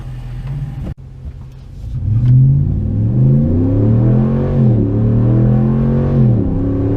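A 2017 RAM Sport Night Edition 4x2 pickup with a 5.7L engine drives past. After a brief quiet start, its engine swells into a loud, steady low rumble with rising and falling revs, heard close with no talking.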